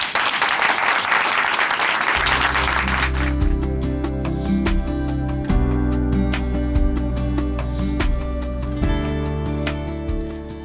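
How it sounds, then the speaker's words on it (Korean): A church congregation gives a loud burst of applause to welcome a guest speaker at a Christian broadcast service; the clapping lasts a few seconds, then gives way to a gentle musical accompaniment. "춘천 한마음교회 이향숙 자매님 박수로 모십니다."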